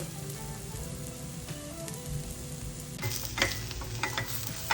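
Bitter gourd frying in a pan with chili powder, a soft steady sizzle with spatula stirring and scraping that grows busier partway through, no one talking.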